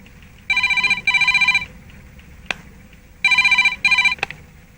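A telephone rings in two paired bursts of trilling electronic tone, loud and close, separated by a pause, with a couple of sharp clicks in between.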